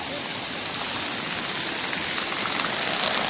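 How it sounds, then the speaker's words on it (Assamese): A hill stream in Assam's hills rushes with a dense, even wash of flowing water, constant and fairly close, with no voices over it. "এয়া পাহাৰীয়া জুৰি নদী"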